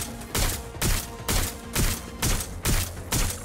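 Gunfire in a Watch Dogs: Legion shootout, a fast, even rhythm of about seven loud, close bursts, each followed by a short gap, with no talking over them.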